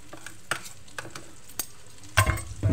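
Tortang talong, an eggplant omelette, frying in a pan, with a faint sizzle beneath scattered clicks and scrapes of a utensil, getting louder and busier toward the end.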